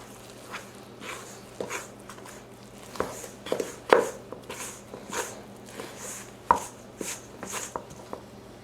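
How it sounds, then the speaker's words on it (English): Soda biscuit dough being mixed with milk using a spoon in a bowl, giving a run of soft, irregular scraping and tapping strokes close by, with no talking. "mix with the spoon."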